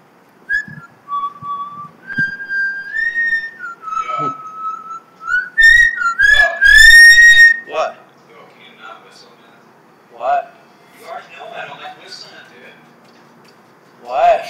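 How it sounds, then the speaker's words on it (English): A person whistles a wandering, high tune in close, clear bursts with pauses between phrases, while people talk and react around it. "stop whistling"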